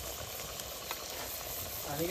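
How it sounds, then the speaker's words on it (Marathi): Chicken pieces hit a very hot pot at an outdoor forest cookout and give a low, steady sizzle, faint and close, with light stirring scrapes. "आता चिकन टाकायचं आहे एकदम कडक मध्ये."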